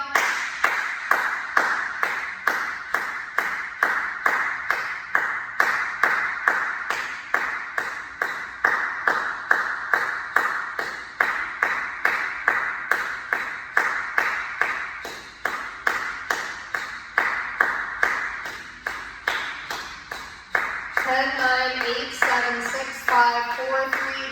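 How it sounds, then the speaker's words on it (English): Steady hand clapping pacing breathing during a hot yoga class, sharp regular claps repeating around twice a second for over twenty seconds, loud and close, quickening near the end with a voice talking over it. "I'm going to clap."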